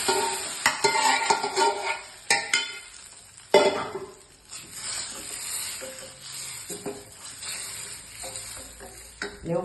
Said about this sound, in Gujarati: હવે આ બધું સોતરાઈ ગયું છે, એમાં આપણે ઘૂંટો વઘારીશું